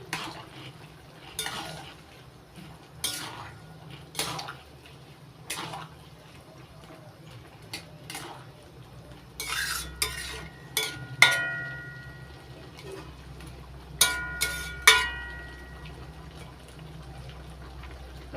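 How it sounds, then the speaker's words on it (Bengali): A spoon stirs fried prawns into bottle gourd curry in a pan, with repeated metallic scrapes and knocks against the pan over a soft simmering bubble, growing busier and louder toward the end. "নাড়াচাড়া করে মিশিয়ে নিচ্ছি"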